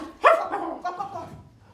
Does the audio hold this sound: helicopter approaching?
no